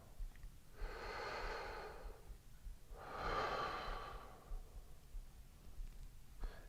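Deep, slow breathing during a yoga stretch: a long exhale and then a second fuller breath, close and fairly soft, with quiet pauses between them and no talk.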